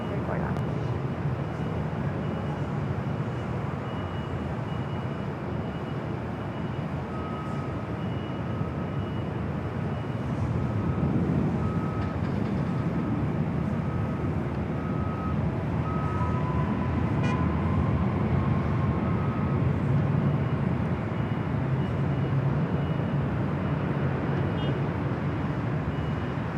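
An airliner takes off from runway 24 left at Los Angeles International Airport, a broad steady roar of engine noise that swells slightly toward the end, with a faint tonal whine running through the middle.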